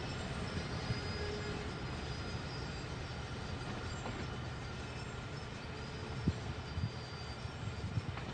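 Freight train rolling through Cajon Pass in Train Sim World 3, a steady broad rumble of railcars and wheels with a few soft clanks near the end.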